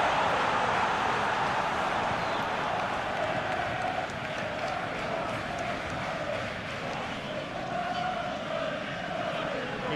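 Steady roar of a stadium crowd at a Premier League match between Wolves and Arsenal in the PES football video game, a dense continuous wash of cheering and chanting that holds at a fairly even level with commentary voices mixed in.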